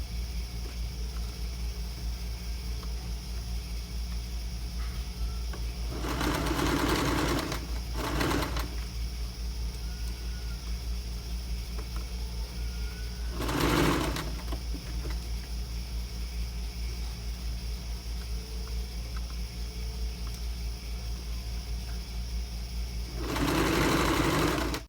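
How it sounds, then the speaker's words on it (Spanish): A sewing machine stitches a raglan sleeve blouse in three short runs: a two-second burst, a brief one just after, then a quick run and a final longer stretch, with near-quiet room tone between and no talking. "Una vez que ya le hemos cosido todo el contorno"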